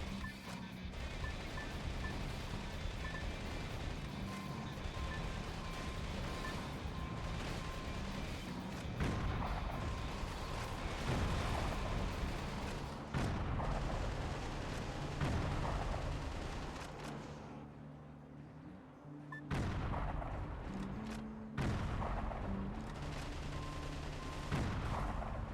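Sustained gunfire and explosions from the Xbox video game Metal Wolf Chaos keep up a dense, booming barrage for the whole stretch, with repeated heavy blasts. The din is loud and continuous, and there is no talking over it.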